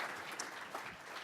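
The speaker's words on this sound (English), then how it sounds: "So give a round of applause" A short burst of audience applause for a conference panel, moderate and fairly steady, with no one speaking over it.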